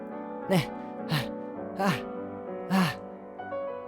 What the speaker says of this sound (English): She's hyperventilating.